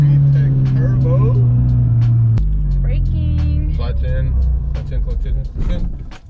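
A turbocharged 8th-generation Honda Civic with VTEC is driven, its engine droning loudly up close and shifting pitch as it revs, then dropping off; people talk over the engine noise inside the car.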